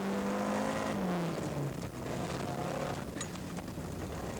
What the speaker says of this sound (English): On the right-hand side is Dal Halverson in the Rothmans Audi Quattro